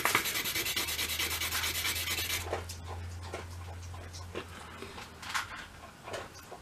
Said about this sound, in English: If you're worried about the end there, you can use some sandpaper.